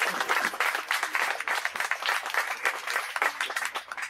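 An audience at an Italian talk on hoaxes breaks into applause, many hands clapping in a lively, slightly uneven rhythm that swells and dips, crisp and close, without speech on top.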